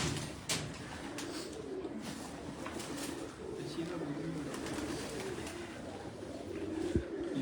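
Farangi pigeons coo from a rooftop loft in a low, repeated murmur, close and steady, mixed with soft rustles and a couple of sharp knocks, with some background voices.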